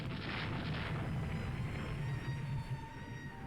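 Naval bombardment in the naval strategy game Rule The Waves 2 comes through as a continuous low rumble of distant heavy gunfire, rolling booms merged together without clear separate shots.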